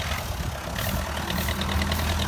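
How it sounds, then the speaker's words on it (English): A brand new 480 loader tractor idles steadily and close by, a continuous low mechanical rumble with a faint ticking knock, with no voices over it. "Looks like we got a brand new 480 loader tractor"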